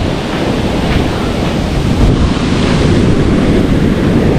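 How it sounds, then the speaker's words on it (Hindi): Large waves crash against a sea wall at Hawke's Bay beach in rainy weather, a loud, continuous roar of surf and water close by, with wind buffeting the microphone. "लंबी लहर हो जाती है जब वो दीवार से टकराती है"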